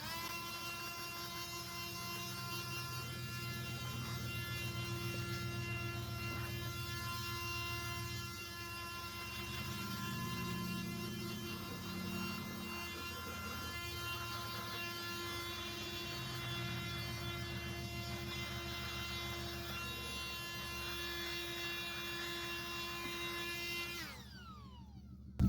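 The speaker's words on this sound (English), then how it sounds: "Gonna blow it with the Ryobi high volume inflator" A Ryobi high volume inflator blows out the spark plug wells of a 2011 Chrysler Town and Country 3.6L V6 during a tune-up: a steady close-up motorized whine with an electric hum runs for about 24 seconds, then cuts off.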